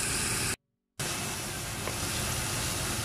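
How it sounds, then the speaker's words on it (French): A small onion sautés in a hot pan for a tomato sauce, giving a steady, close broadband sizzle that cuts out briefly near the start and then resumes at an even level. "je vais faire revenir un petit oignon"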